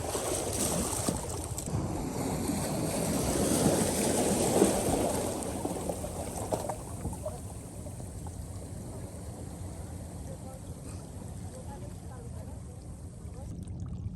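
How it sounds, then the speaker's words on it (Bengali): Sea waves at Saint Martin's Island roll in as a low, rumbling wash that swells loudly at first and then settles into a softer, steady surge. "সমুদ্রের ঢেউয়ের সাথে এর গর্জন সত্যি মনোমুগ্ধকর"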